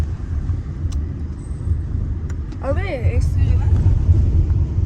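A car is driven with a steady, close engine rumble and road noise, and a person talks briefly over it partway through.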